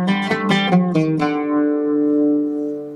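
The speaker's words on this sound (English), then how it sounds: "Hijaz maqam, which sounds like this" A plucked stringed instrument plays a quick run of the Hijaz maqam, five or six bright notes in succession, ending on a long ringing note that slowly fades.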